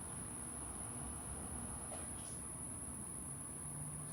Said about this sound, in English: I have to ignore the noise that cicada's making.